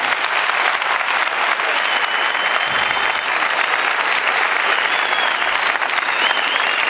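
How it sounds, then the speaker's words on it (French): An audience at a comedy show applauds loudly for Dédé, a dense, sustained burst of clapping at close range that stays even throughout. "Ben, on l'applaudit très fort, Dédé, vraiment."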